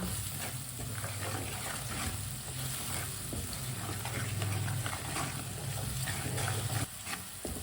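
Spices frying over a low flame in a pan, a steady close sizzle with soft stirring scrapes running throughout, no talking.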